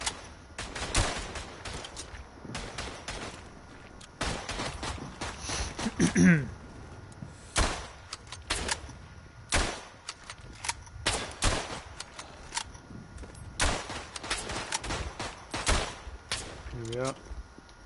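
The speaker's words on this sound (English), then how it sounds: "Bit of hip fire. Does work." Hip-fire gunshots in the WW1 shooter Verdun: loud, sharp rifle and machine-gun reports in irregular bursts and single cracks, with scattered distant battle noise in between.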